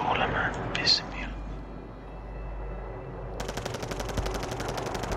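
Rapid automatic gunfire in Call of Duty: Modern Warfare, a fast rattling burst starting partway through and continuing to the end, preceded by quieter game ambience and faint voices.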